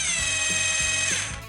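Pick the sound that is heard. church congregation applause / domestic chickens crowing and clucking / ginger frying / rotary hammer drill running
rotary hammer drill running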